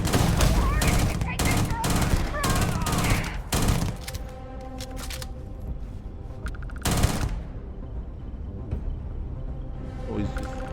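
Rapid gunfire from Starfield, the science-fiction shooter game, sounds in loud bursts of repeated shots for the first few seconds, then a single heavy shot later over a lingering ambient hum.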